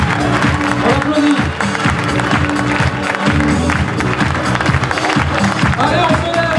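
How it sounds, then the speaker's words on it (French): Audience at a talent-award ceremony in Aulnay-sous-Bois applauds the winner of the emergence category prize, a dense, continuous roar of clapping and crowd noise that stays loud throughout, with music or voices mixed underneath. "on applaudit"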